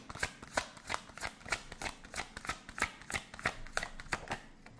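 Gypsy tarot cards being shuffled by hand, a quick regular run of crisp riffling flutters about three per second, close and moderately quiet with no speech.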